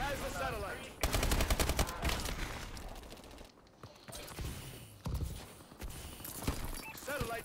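Rapid automatic gunfire bursts and scattered shots crackle through a Call of Duty: Advanced Warfare match, loud sustained volleys alternating with quieter gaps, overlapping with game announcer callouts and a player talking.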